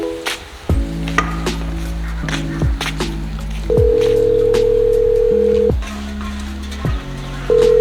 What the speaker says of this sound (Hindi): रोहित अपने मोबाइल से नरेश को फोन लगाने की कोशिश कर रहा था